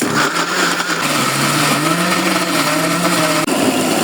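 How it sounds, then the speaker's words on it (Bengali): A kitchen blender runs continuously at high speed, whirring through a chicken sausage mixture with beetroot for colour. Its loud, close motor drone slowly shifts in pitch as the load changes, with no voices over it. "এখন আমি যে ব্লেন্ডারে ব্লেন্ড করে নেব।"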